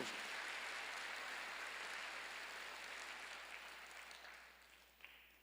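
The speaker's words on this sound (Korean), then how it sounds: "박수 한번 쳐주세요." Congregation applauding during a midweek worship service, a dense, even clapping that holds steady, then thins and fades out near the end.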